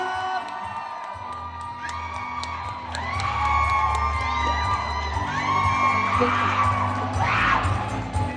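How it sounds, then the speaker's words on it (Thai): A crowd at a stage event cheers and whoops with shouted calls rising over a low rumble, growing louder and fuller midway and staying lively to the end. "ขอเสียงปรบมืออีกครั้งหนึ่งครับ"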